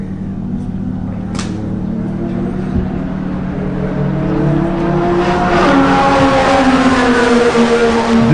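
A race car on a hot lap at Buttonwillow Raceway, its engine note climbing steadily through the gears and growing louder as it accelerates, with faint tire noise and little talk.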